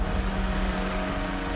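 A small airplane engine drones loudly and steadily in a climb, with a constant hum and whining tones inside the cabin and no break in the noise.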